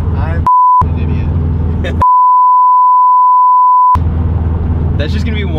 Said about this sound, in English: That's just gonna be one long beep.